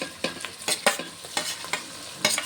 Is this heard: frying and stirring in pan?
yes